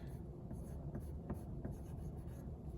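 Pen writing on paper, a faint scratching with light strokes over a steady low background hum, close and with no talking.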